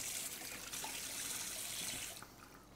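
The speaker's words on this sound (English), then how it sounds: "So I'll just rinse those hands off." Hands rinsed under a running kitchen tap, a soft, steady splash of water that falls away near the end, faint and close with no talking.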